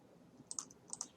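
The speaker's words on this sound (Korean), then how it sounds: "우리 키보드에서 F11 키보드 눌러보세요" A few quiet clicks of a key being pressed on a computer keyboard, two small pairs of taps close together with nothing else going on.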